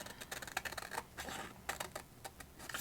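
Scissors snip out a paper card piece in a short series of close, quiet cuts and rustles.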